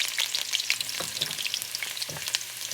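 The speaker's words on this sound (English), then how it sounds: "I'm just gonna put a little garlic in the oil." Garlic sizzles and crackles steadily in hot oil with small popping spatters, a close, busy frying sound with no voices.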